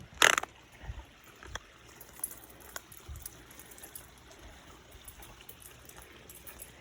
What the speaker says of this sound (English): there's a lot of little waterfalls, little ones